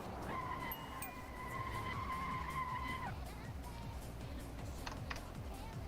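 A car braking hard in a driving game on Potenza tires, a sustained high tire squeal lasting about three seconds over a steady engine drone, followed by continued engine rumble and a brief second squeak.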